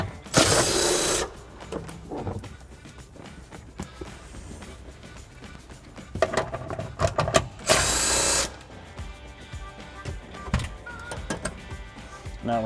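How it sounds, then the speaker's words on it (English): Electric impact gun with a 13mm socket removing rear seat bolts in a 2005-2014 Ford Mustang, two loud short buzzing bursts separated by clanks and handling noise, close up. "I'm going to take my 13mm on my electric impact gun, take these bolts out."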